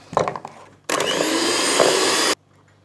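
Electric mixer whisking carrot cake batter, switched on after a little clatter and running as one loud, steady whir for about a second and a half before it cuts off abruptly.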